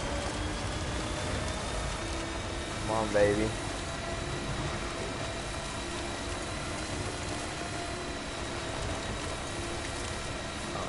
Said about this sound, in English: I just need to get out of the rain as soon as possible.